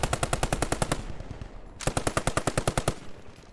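Machine gun and rifle fire from a video game erupts in two rapid, loud, evenly spaced bursts, the first fading into a brief echoing gap before the second volley starts.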